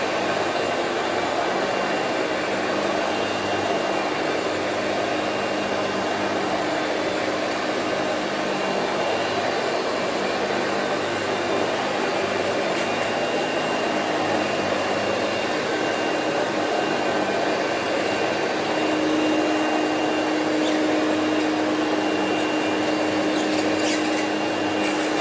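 Hoover Celebrity QS canister vacuum with a power nozzle running steadily and loudly for the whole stretch, a constant broadband whoosh of airflow with a motor whine, no talking.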